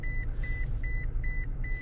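A third-generation manual Toyota Tacoma gives its 4WD warning as a quick series of short, even electronic beeps, five or so in under two seconds, over a low idling engine rumble inside the cab.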